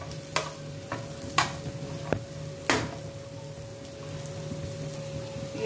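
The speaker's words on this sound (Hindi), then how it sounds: "हल्का सा रोस्ट करेंगे, भूनेंगे इसको।" Dry fruits roast in a pan while being stirred, giving a faint crackle with several sharp scraping ticks of the spoon against the pan spaced irregularly.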